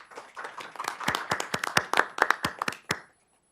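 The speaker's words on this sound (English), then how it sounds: "Let's give a round of applause for all of our SCEC diagnosticians." A small group claps at a school board meeting, sparse, individually distinct hand claps that build briefly and then stop abruptly, leaving silence.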